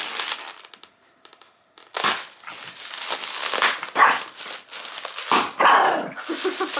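A dog barking at items from an Amazon package, with sharp barks and growly yaps mixed with crinkling plastic packaging, bursts coming close and loud.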